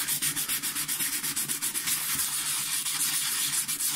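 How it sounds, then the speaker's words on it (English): Wet-dry 400 grit sandpaper rubbed with motor oil over corroded metal, a close, steady rasping scrub in quick repeated strokes with no talk. "Then I can get wet dry sandpaper."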